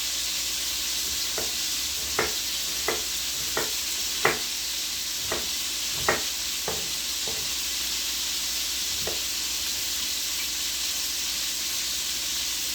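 Chicken browns in a pan, sizzling steadily in hot oil, a constant close hiss broken by a dozen scattered taps and clicks from a utensil.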